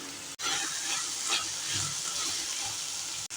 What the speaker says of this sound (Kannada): ಎಣ್ಣೆಯಲ್ಲಿ ಸ್ವಲ್ಪ ಹುರ್ಕೋತಾ ಇದ್ದೀನಿ